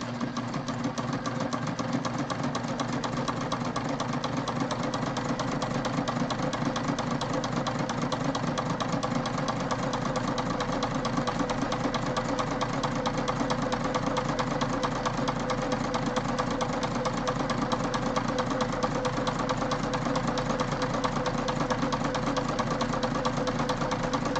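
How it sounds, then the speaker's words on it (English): A sewing machine stitching the folded side of a handmade backpack runs in a steady, fast, even whir with a rapid needle rhythm, close and unbroken. "I am sewing the side that is folded together"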